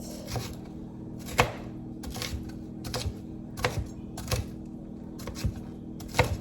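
A knife chops ingredients finely on a cutting board for a keto parmesan bacon meatloaf, giving a steady run of sharp, close taps at a brisk, slightly uneven rhythm over a low background hum.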